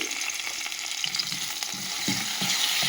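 Spices stirred into a frying pan while cooking palak paneer: a steady broadband sizzle of hot oil with soft scraping strokes of a spoon against the pan, close and continuous with no voices.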